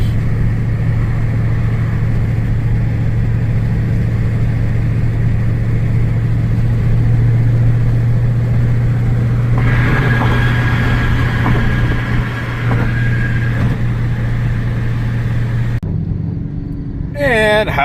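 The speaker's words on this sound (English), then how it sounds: "Just enjoy the muffler, enjoy the exhaust." A car's engine rumbles steadily through its muffler exhaust as a low, continuous drone while cruising, with mid-range tones rising midway and a brief shift near the end.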